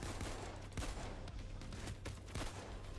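Automated turret in the PAYDAY 2 heist game firing rapid bursts of gunfire, a dense, sustained rattle of shots with sharp cracks, moderately distant and steady throughout with no talking.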